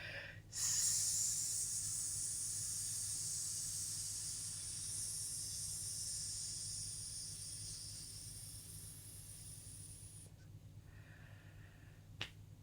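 A voice imitates a snake's hiss as a long, steady exhaled breath during a singing warm-up, holding loud and even for about ten seconds before stopping, then a short breath in.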